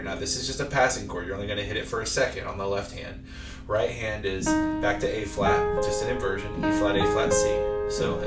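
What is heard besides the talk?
No distinct noise like a dog, phone or traffic.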